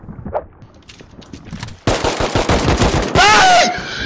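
An AK rifle in the video game Rust fires loud, rapid automatic bursts that start abruptly after a quieter stretch and keep going densely to the end.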